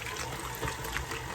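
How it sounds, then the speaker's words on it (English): Hot water poured in a steady, continuous stream while making an Italian sweet coffee creamer, a close splashing rush with no talking. "get some hot water. Let's add it as we need it."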